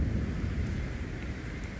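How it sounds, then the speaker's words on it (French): A thunderstorm in Corsica brings a steady, dense hiss of rain and a low rumbling wash throughout, broad and continuous with no speech. "là il y a un putain d'orage"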